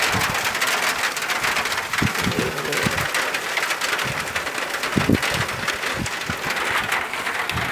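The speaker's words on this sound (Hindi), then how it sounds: "आज माशाल्लाह बहुत ही बारिश हो रही है पाकिस्तान में भी" Heavy rain pours steadily in Hafizabad, Pakistan, a dense continuous hiss of drops on surfaces, punctuated by occasional low thuds and taps.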